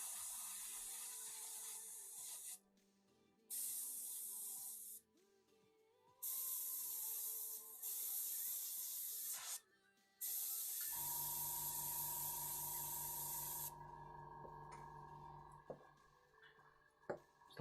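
An airbrush sprays paint onto Warhammer Necron miniatures in several bright hissing bursts of two to three seconds with short silent gaps. It ends with a quieter steady mechanical hum.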